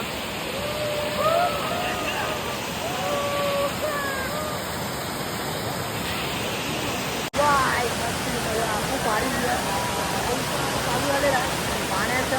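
Rushing water of Kadape Kondi waterfall in Raigad during monsoon rain, a loud continuous broad roar under scattered voices and people calling out nearby.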